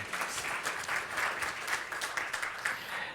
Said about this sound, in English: But I think that's a well-deserved round of applause